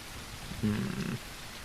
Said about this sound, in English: I can't hear anything over the rain